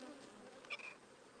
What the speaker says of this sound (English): Oh, I hear these bees roaring right now.